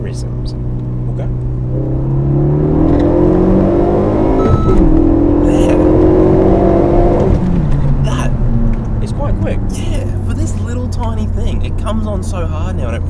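Renault Megane RS250 with a Stage 1 remap, heard from inside the car: the engine note climbs steadily for several seconds, holds high, then drops back toward idle, with talking over it.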